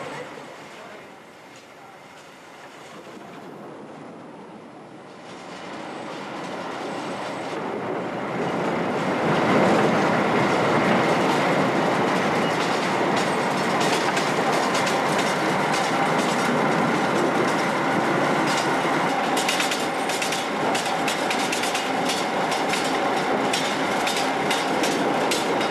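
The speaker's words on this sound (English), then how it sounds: "They are shunted the last few yards to the unloading point manually." Peat wagons are shunted by hand on an Irish 2-foot narrow gauge bog railway, producing a loud, broad rolling rumble that builds over several seconds and then holds steady.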